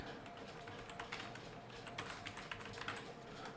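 Rapid, irregular keystrokes tap on a computer keyboard, a quiet but steady patter of light clicks running throughout.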